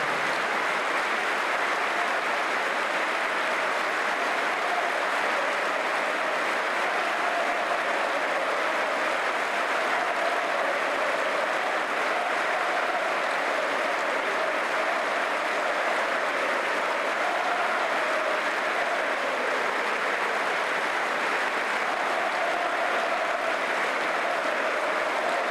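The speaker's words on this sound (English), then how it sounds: "As we remember Sol, please join us in a minute's applause, which will end on the referee's whistle." A football stadium crowd holding a minute's applause in tribute before a Championship match between Leeds United and Burnley, heard as a dense, unbroken wash of clapping that stays level and distant-sounding throughout, with no talk.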